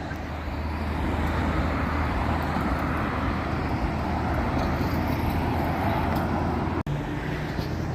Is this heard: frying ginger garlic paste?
no